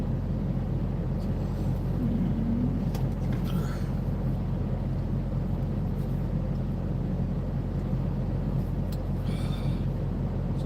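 A parked truck's engine idles in a steady, unbroken low rumble with a faint vibrating hum, close and constant throughout, with no talking.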